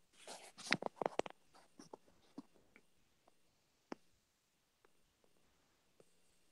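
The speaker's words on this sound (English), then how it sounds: "I'm just like I'm typing as you're talking." Faint, close keystrokes on a computer keyboard: a quick flurry of clicks at first, then sparse, irregular taps trailing off in a quiet room with no talking.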